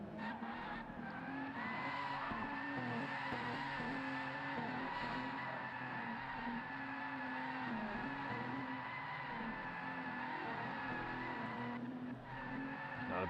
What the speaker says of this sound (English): Not a bad little donut show there